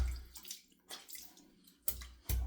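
Hot water splashes and rinses a shaving brush and bowl, with a few soft sloshing bursts and drips separated by short pauses, close and fairly quiet.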